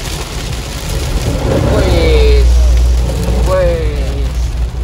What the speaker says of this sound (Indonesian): Ya, hujannya tambah deras.